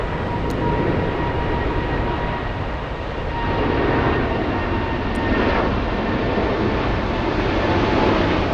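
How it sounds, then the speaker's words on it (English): A Lufthansa Boeing 747 jet at Frankfurt airport, lining up for runway 25 Center, makes a loud, steady engine roar. The roar stays broad and continuous and swells slightly partway through. "Another 747 Lufthansa is lining up."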